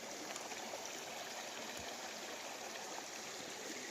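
Continuous rushing of a shallow stream at the water's edge outdoors, a steady, fairly faint broadband flow with no talking.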